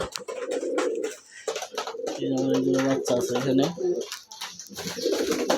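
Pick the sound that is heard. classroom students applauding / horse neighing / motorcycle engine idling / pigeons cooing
pigeons cooing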